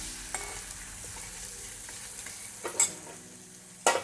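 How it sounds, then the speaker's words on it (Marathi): Green chillies frying in hot oil in a pan for a sweet potato fasting dish, a steady low sizzle with a few louder stirring scrapes near the end. "तेलामध्ये थोडी मिरची होऊ देते 1 मिनिट"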